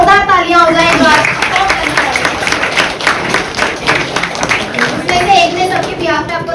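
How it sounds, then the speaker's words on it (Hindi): An audience claps for seventeen contestants at an anniversary celebration event, with energetic, uneven clapping mixed with children's and other voices calling out. "ओके, 17 कंटेस्टेंट्स के लिए जोरदार तालियां हो जाए एक बार।"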